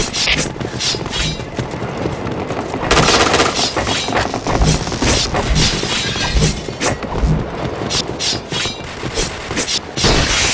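Sniper rifle fire in a video game, with loud sharp shots and bursts repeating through dense, noisy combat and heavy impacts, layered over busy in-game action.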